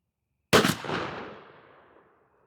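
A single 12-gauge blast from a Remington 11-87 with a 28-inch barrel, firing a Federal Mag-Shok 3-inch 2 oz #4 shell outdoors: one sharp, loud report followed by a rolling echo that fades over about two seconds.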